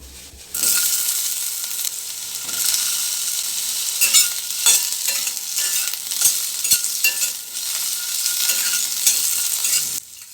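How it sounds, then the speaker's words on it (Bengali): Nigella seeds sizzle and crackle steadily in hot mustard oil, with a dense frying hiss and occasional sharper pops throughout. "কড়াইয়ে পরিমাণ মতো সর্ষের তেল দিয়ে তাতে কিছুটা কালো জিরে ফোড়ন দিলাম"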